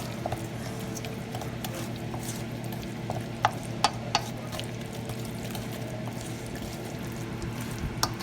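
A wooden spoon works through a thick sweet potato mixture, giving soft scraping and a few sharp knocks against the pot over a steady low background hum, with no talking.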